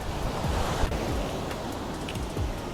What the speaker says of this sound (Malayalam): ഈ ബീച്ചിൽ വന്നപ്പോൾ നല്ലൊരു തണുത്ത കാറ്റ്